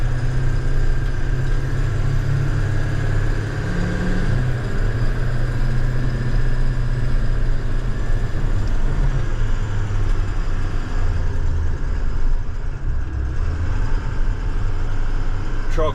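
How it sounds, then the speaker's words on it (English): A 2014 International Terrastar snowplow truck's engine drones smoothly and steadily from inside the cab, a continuous close low hum throughout with little change. "Truck runs very nice."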